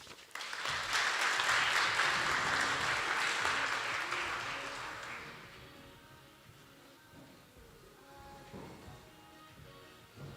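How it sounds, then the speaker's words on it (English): Audience applause at a faculty research day, a full round of clapping that swells for about five seconds and then fades to a quiet room with faint knocks and background murmur. "Can we give him another round of applause, please, ladies and gentlemen?"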